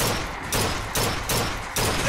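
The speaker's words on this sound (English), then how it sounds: "Ah, chain gun. Is she warning me about the chain gun? Or turret, whatever it is." Chain gun turret in BioShock Infinite firing in sustained bursts, a dense broadband roar that swells in roughly half-second surges with no pauses between them, loud and close.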